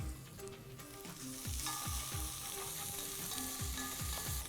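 Coriander stems fry in a pan for paneer bhurji masala, a steady close sizzle broken by regular rhythmic scrapes and knocks of stirring throughout.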